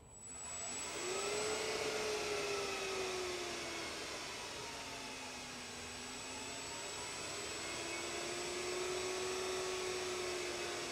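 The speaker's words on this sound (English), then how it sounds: "You'll see the motor spin up here real quick." A series DC motor on a Curtis clone motor controller spins up from rest into a loud, steady whine that rises and wavers in pitch, with a broad rushing hum beneath and no voices.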